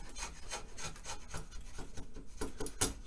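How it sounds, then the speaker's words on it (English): A draw knife shaves wood to taper a drumstick blank, giving a run of rough, rasping strokes in steady succession, close and moderately loud, with no voices. "I'm going to use a draw knife to remove this wood"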